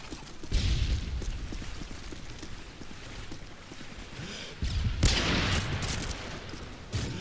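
Gunfire in Modern Warfare 3 on the Seatown map, loud dense bursts of shots with a sharp blast partway through and continuing rapid fire, no talking.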